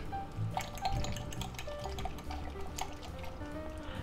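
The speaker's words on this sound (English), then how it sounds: "And we're going to pour it right in there," A wet, soft pour and trickle as beaten egg mixture with spinach and green onion flows into a tart shell, close and steady with faint clinks.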